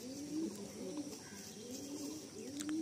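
Pigeons cooing nearby, soft repeated low coos running continuously against a faint background hum.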